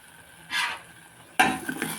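Moringa leaf and potato curry, seasoned with salt, garam masala and chili powder, is stirred in a pan in two short bursts of scraping and mixing. The bursts are separated by a near-quiet pause, and no one speaks.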